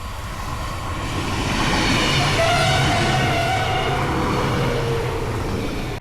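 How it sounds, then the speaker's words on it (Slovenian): A train passing near a via ferrata route at Ferat in Slovenia, a loud, steady rumble that swells over about six seconds and holds with a faint tonal hum, with no voices. "Čakaj, vlak?"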